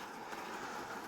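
Hornby Lumo class 803 model train running on the track at a small incline, a faint, steady mechanical whirr and rolling hum, continuous and unbroken, with no talk.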